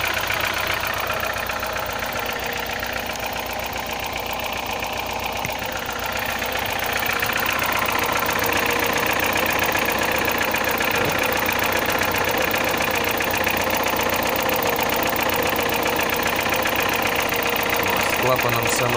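A car engine idles after starting, its idle valve having been tinkered with; a steady, rough mechanical rumble carries on close by while someone speaks.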